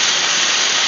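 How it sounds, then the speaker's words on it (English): Diced stew meat for Irish stew sears in a hot pan, giving a loud, steady broadband sizzle and hiss that runs unbroken throughout, close up and alone. "So I'm searing the meat."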